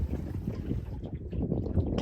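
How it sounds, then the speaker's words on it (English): Lake waves slap and lap against the metal hull of a small boat out in the middle of the lake, a close, uneven series of low sloshing knocks with wind rushing over the microphone. "The waves are like lapping against the side of the metal of the boat."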